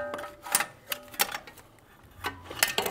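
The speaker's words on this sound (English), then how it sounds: "what I'm using here is a long extension with a 13 millimeter socket" A socket wrench with a long extension and 13 mm socket turns an engine mount bolt reached over the axle and transmission on a 2007–2014 Volvo XC90 3.2L, giving a few sharp ratcheting clicks in separate bursts, close and fairly quiet.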